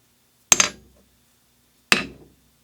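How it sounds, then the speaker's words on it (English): Snap-on dead blow ball peen hammer striking a Harbor Freight 15-pound anvil, giving two sharp, loud metallic strikes about a second and a half apart, each fading quickly with little ring. "here is a snap-on dead blow ball peen"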